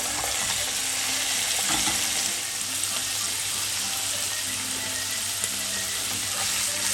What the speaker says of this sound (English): When your pan is very hot, add the olive oil. Now you can cook your steak carefully.